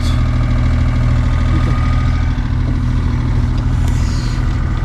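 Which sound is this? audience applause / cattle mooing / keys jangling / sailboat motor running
sailboat motor running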